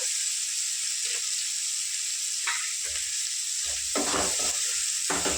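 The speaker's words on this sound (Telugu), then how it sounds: "ఒక చిన్న సైజు ఉల్లిపాయలు ఒక 6 తీసుకున్నానండి. ఇవి ఫ్రై చేసుకున్నాము." Six small onions, salted, fry in a pan with a constant close hiss. Brief louder bursts of stirring break in a few times, mostly in the second half.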